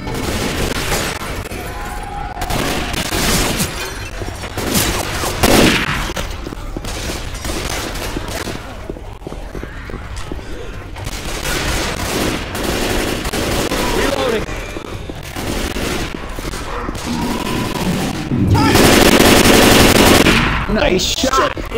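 Rapid bursts of automatic gunfire from the video game Left 4 Dead 2, loud and close, repeating in clusters with brief gaps and a few heavier booms, while game characters call out over the shooting.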